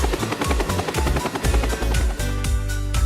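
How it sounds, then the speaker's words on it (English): A helicopter's rotor thumps rhythmically and steadily over a deep engine drone, loud and close throughout. "Helicopters are used to cover small distances."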